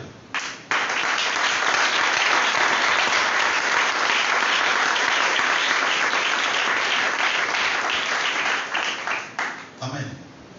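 A church congregation applauds to acclaim the word of God, with dense, loud clapping that holds steady for about ten seconds before thinning into a few scattered claps at the end.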